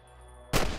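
Gunfire in the Western video game Red Dead Redemption bursts in abruptly after a quiet half second of low ambience, a loud, dense volley of shots.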